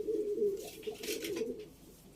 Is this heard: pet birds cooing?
yes